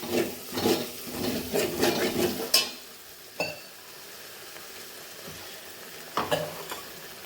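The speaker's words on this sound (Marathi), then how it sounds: "थोडासा मसाला शिजण्यासाठी त्यामध्ये थोडंसं वरण ॲड केलेलं आहे" Masala with added toor dal cooking in a pan, stirred briskly with a few scrapes and a soft sizzle underneath, then the stirring stops and only a quiet simmer remains with a couple more scrapes near the end.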